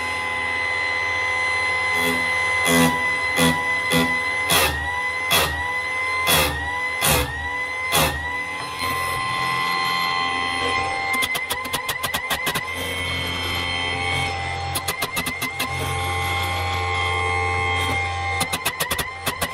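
A Vitals ZKA 8510j chain sharpening machine runs with a steady motor whine throughout. Over the first eight seconds there are short, repeated grinding bursts as a saw chain tooth is sharpened, then a denser run of quick bursts later on.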